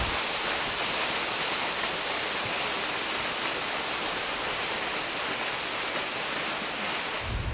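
A waterfall in a gorge on Kosrae Island roars as a dense, steady broadband rush of falling water, loud and unbroken throughout.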